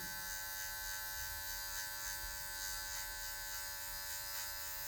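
An electric hair clipper trims afro hair for a mid fade, giving a continuous close electric buzz with a steady hum and slight shifts as the blade tip moves through the hair.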